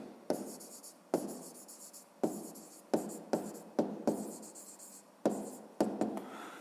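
A pen scratches short strokes on paper during a fifth-grade maths exercise, with about a dozen quick, close, quiet bursts in an uneven rhythm and no talking.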